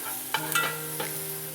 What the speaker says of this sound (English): It's been frying for a good 7 minutes